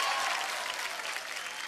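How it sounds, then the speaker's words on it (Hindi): Audience applause at a televised dance show, a dense sustained burst of clapping from a large crowd, loud and steady throughout with no talking. "एक बार जोरदार ताली बजाओ"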